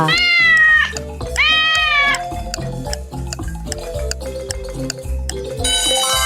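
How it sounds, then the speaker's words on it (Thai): A cat meows twice in quick succession, loud and close, over a bouncy musical backing that keeps playing afterward. "เฉลยเสียงของแมวค่ะ"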